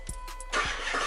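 Car engine with a lean-running surging fault, with a couple of short starter clicks and whirs, then catching into a loud, close, unsteady running roar.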